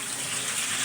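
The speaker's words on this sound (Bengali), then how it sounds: "তো এখন হচ্ছে পুঁটি শুটকিটা ধুয়ে নেব" Water splashes and runs steadily over dried puti fish being washed in a basket, a brief continuous gushing wash heard up close without any voices.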